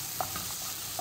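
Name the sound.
shrimp and garlic being stirred in a pan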